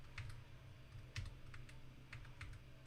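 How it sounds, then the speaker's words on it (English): Quiet keystrokes tap on a computer keyboard in short, irregular bursts while someone types into a chat, light clicks over a low hum. "Now I'm typing in the chat."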